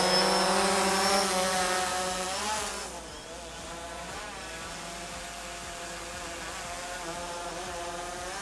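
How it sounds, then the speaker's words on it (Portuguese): A drone's buzzing motor whine rises and shifts pitch as it lifts off, then settles into a steady, quieter hovering drone. "Vou erguer primeiro o drone."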